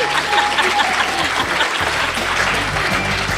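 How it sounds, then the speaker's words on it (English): An audience at a live show claps steadily, a thick continuous wash of hand claps close by throughout. "Go ahead, clap."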